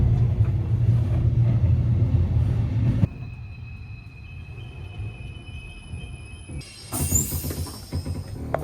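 A night train rolls along the rails with a steady low rumble that drops away partway through, leaving thin tonal whines before a brief burst of noise returns near the end; no one speaks.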